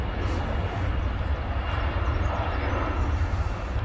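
An aircraft passes at Manchester Airport as a continuous low engine rumble and roar, moderately loud and steady throughout.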